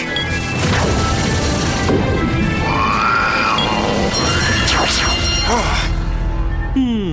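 Summon Skull monster attack effect in a Yu-Gi-Oh anime duel, a loud sustained crashing blast with rising and falling whistling swoops and squeals, ending in a brief distorted cry.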